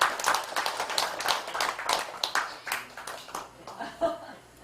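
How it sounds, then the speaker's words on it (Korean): Scattered clapping from an audience at a Buddhist dharma talk during a memorial service at a Korean temple, a loose, uneven patter of claps that thins out toward the end. "이쯤에서 박수도 나오고"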